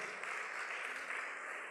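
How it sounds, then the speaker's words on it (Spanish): Steady applause from a church congregation during a Spanish-language sermon, a dense continuous wash of clapping that holds evenly throughout without voices on top. "Dele un aplauso a Él."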